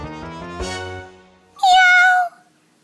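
A cat meowing close by, one drawn-out meow followed by a second higher, rising cry, clear and loud with nothing else around it.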